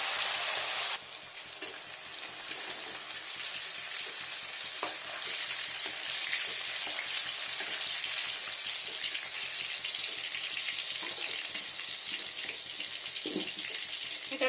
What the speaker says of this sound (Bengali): এখানে বরবটিটা ভেজে নিচ্ছি